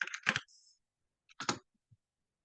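Computer keyboard keys clicking as ICMP is typed into a packet-capture filter, two short clusters of crisp taps separated by silence.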